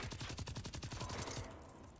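Video game gunfire: a rapid automatic burst of evenly spaced, punchy shots, close and loud, that stops abruptly and leaves a fading tail.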